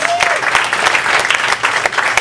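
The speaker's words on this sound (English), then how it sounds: "Let's give her a round of applause." Audience applause at a talk show, dense steady clapping from a crowd filling the whole short stretch at close range.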